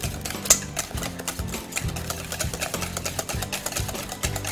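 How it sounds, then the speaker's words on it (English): An electric mixer whirs through chocolate protein bar batter in a rhythmic, pulsing hum, its motor rising and dipping in repeated cycles, close and steady with a faint click near the start. "I'm gonna mix it till it's a little frothy"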